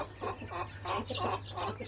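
Gamecock chickens and chicks of a Burmese fighting breed cluck in a quick string of short, soft calls, close by with no talking.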